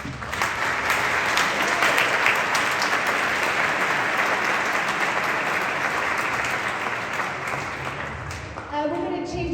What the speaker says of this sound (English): I just want you all to give yourself a round of applause for all your work.